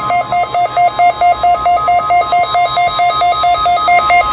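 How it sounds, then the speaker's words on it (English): A National Weather Service weather radio warning alarm tone pulses rapidly and steadily, a loud, piercing, evenly chopped beeping at close range with no voices. "This is a test of the National Weather Service weather radio warning alarm"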